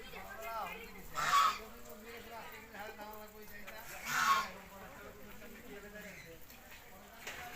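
Ducks or geese at a farm honk in two loud bursts over a background of steady chatter and talk from people nearby.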